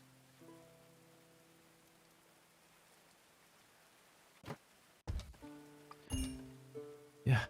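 Steady soft rain in the medieval colony-building game Going Medieval, a faint even hiss with low tonal music underneath, later broken by several sharp louder hits and clatters.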